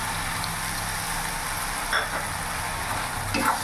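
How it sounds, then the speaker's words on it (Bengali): Bengali-style spice paste (masala) cooking down in oil in a pan for tel potol, giving a steady, close sizzling hiss with a couple of soft stirring scrapes and no talk. "মশলাটা ভালো করে কষিয়ে নেবো যতক্ষণ না মশলা থেকে তেল ছেড়ে দিচ্ছে"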